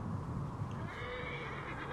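A horse in the video game Assassin's Creed Origins neighs loudly and close over a dense, noisy background, one sustained whinny filling the short span.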